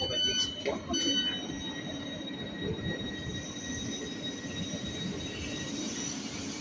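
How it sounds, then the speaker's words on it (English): A train rumbles at London St Pancras International station, with a steady low rolling drone and high whining tones; brief squeals or chimes sound near the start. "தான் நாங்கள் வந்த ட்ரெயின்."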